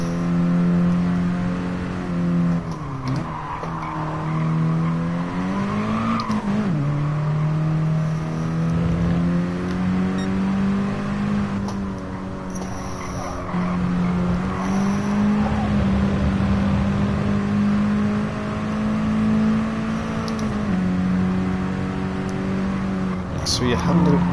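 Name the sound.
Mini Cooper engine racing in video game Gran Turismo Sport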